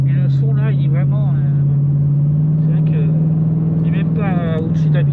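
A Chevrolet Camaro SS V8 engine holds a steady, deep rumble at cruising speed under continuous conversation, loud and constant with a slight swell near the end.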